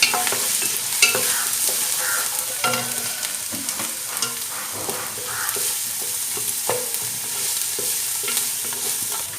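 Onions are stirred in a frying pan while preparing egg bread chilli, with a steady sizzle under repeated scraping and tapping strokes of a spoon against the pan, close and fairly loud, with no speech.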